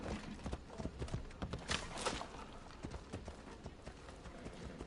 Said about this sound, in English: Is she getting on the horse?